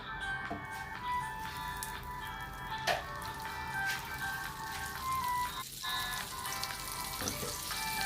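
Butter with a little oil sizzling steadily in a hot grilling pan for diet chicken breast, a constant soft crackling hiss with occasional faint clinks.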